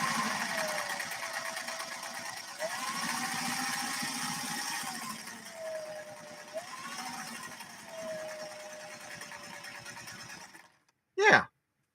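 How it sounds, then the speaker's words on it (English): Singer 40 sewing machine stitching decorative ornamental patterns from fashion discs, a fast steady mechanical whir with slight shifts in pitch and speed, stopping near the end before a brief voice. "when I'm sewing these decorative ornamental type stitches from these fashion discs"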